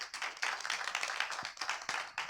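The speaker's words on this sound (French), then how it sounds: "je souhaite que vous l'encouragiez de vos applaudissements avant qu'il prenne la parole." Conference audience applauding a guest speaker at a Téléthon event on Guillain-Barré syndrome in Vierzon; steady, dense clapping from a sizeable crowd, close and continuous for a couple of seconds with a brief dip midway.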